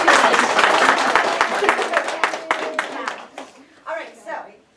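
A second-grade class claps together in a room, a dense burst of small hands that thins into scattered, uneven claps and fades out, with voices murmuring faintly underneath.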